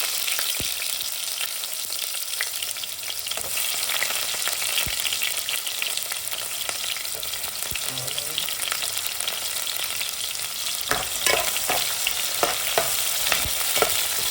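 Onions sizzle steadily in hot oil in a pan, a constant crackling hiss broken by the clink and scrape of a spoon stirring them, close and loud with no talking.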